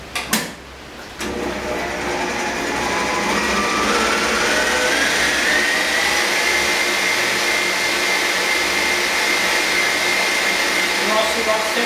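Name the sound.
electric mixer beating pastry cream with whipped cream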